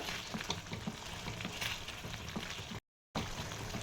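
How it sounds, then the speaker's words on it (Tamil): Close, continuous bubbling and sizzling from egg gravy boiling in a pan on the heat, with faint stirring sounds; it cuts out briefly near the end. "தண்ணி ஊற்றினதுக்கப்புறம் இந்த மாதிரி நல்லா கொதிக்கணும்"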